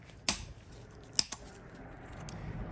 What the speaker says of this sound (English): This one's fighting me a bit, so I'm just going to cut it.